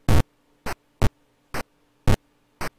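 Atari 2600 chiptune music played back from a tracker, heard as six short buzzy noise bursts in an uneven rhythm with silence between them, fairly quiet and alone.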